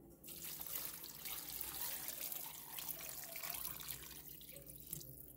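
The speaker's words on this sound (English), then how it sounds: "let's see how much water we're going to need to go in here" Water pours steadily from a tap into a large 8-cup container for pinto beans, a continuous close splashing and filling rush that runs unbroken throughout with no talking.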